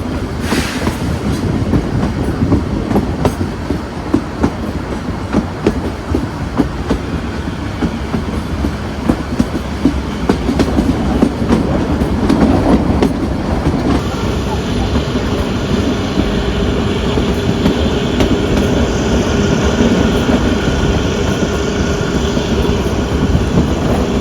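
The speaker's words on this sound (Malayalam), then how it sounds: "കാരണം ട്രെയിൻ ഇപ്പോൾ കുറച്ച് സ്പീഡ് കുറച്ച് പയ്യാണ് ഇപ്പോൾ കയറുന്നത്" A Kangra Valley Railway train climbs slowly up a steep grade beside a river, its carriages rumbling and clattering loudly and continuously with a steady rhythmic wheel clack, no voices heard.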